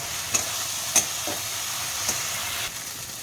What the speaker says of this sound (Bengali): মশলাটা একটু ভালো করে কষিয়ে নিতে হবে